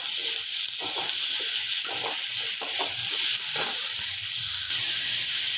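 Mixed vegetables sizzle steadily in a hot pan with sugar just added, while a spoon scrapes and stirs through them in irregular strokes; no talking.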